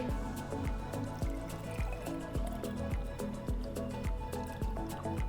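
Water poured from a container into a baby bottle over a sink while mixing Similac NeoSure formula, a steady close trickle with dripping splashes and a faint rhythmic thump continuing throughout.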